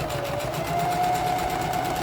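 A sewing machine runs steadily, top stitching handbag fabric with a continuous fast mechanical whir and no pauses.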